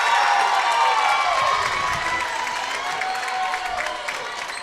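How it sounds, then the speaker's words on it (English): Home crowd at a Cupertino versus Mountain View high school girls basketball game erupting after a made three-pointer, a loud roar of cheers and shouts that gradually fades, with scattered clapping throughout. "Strong crowd reaction out of that 3"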